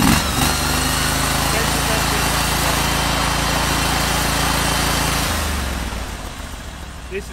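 Near and loud, the small engine and pump of a Panther water jetter drone steadily under pressure, then drop to a lower idle as the pump stops spinning.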